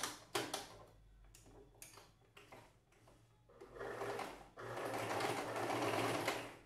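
A sewing machine runs a straight stitch on cotton tricoline fabric for a Christmas rug, starting in short stop-start bursts and then settling into a steady, close whirring run.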